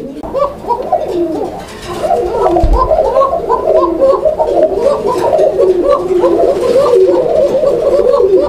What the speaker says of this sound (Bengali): এটা হচ্ছে একটা কোকা কবুতর